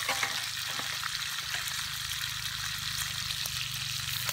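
Crepe batter cooks in a hot pan with a steady, close sizzle and fine crackle that continues evenly throughout, with no talking over it.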